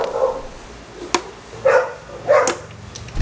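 Neighborhood dogs bark from a distance outdoors, three or four short separate barks spread over a few seconds, fairly faint against a quiet yard background.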